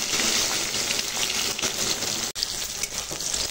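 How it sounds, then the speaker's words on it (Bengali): Bitter gourd pieces, first steamed with salt and turmeric, fry in hot oil in a village kitchen, giving a continuous watery sizzle at moderate level with a brief drop near the end and no talk. "তেল গরম হয়ে গেছে, এখন ভেজে নেবো উচ্ছে।"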